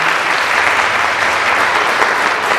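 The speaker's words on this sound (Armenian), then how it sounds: "առաջարկում ծափահարենք Սիրակի Ժողովրդի" An audience at a university concert event breaks into sustained applause, a thick, even wash of many hands clapping close and loud from start to finish.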